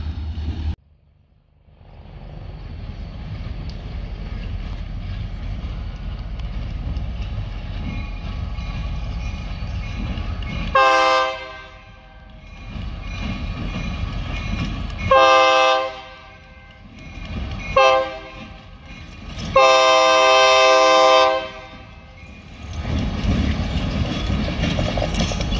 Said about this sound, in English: two locomotives are going north without any freight.